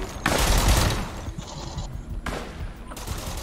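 Gunfire from the online survival shooter The Decaying Winter erupts in a loud burst near the start, followed by fainter, scattered shots and muffled game noise.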